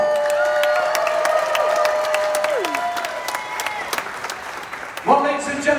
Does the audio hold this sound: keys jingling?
no